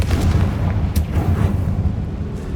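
A Confringo fire spell explodes in Hogwarts Legacy, a dense, rumbling blast with sharp crackling bursts that fills the whole moment, loud and close, with no talk over it.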